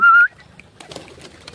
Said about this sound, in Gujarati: જો કબૂતર અહીંયા છે આપણા.